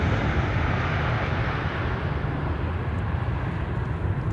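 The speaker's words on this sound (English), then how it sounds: "No reverser landing for the E2 Embraer." Embraer E2 jet landing at Amsterdam Schiphol without thrust reversers, a broad, steady roar of engines and rushing air, loud and near, slowly fading in its highest tones over a few seconds, with no voices.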